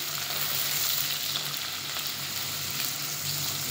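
Onion and garlic sizzle in a pan in a steady, bright, close hiss that holds evenly throughout, with light stirring under it and no voices.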